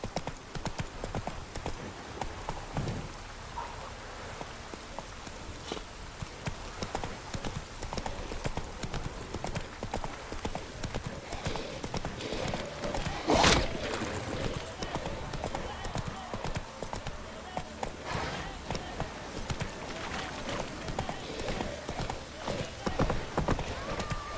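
Roach the horse's hooves clip-clop steadily in The Witcher 3, a continuous rhythmic trot beneath outdoor game ambience, with a voice speaking partway through.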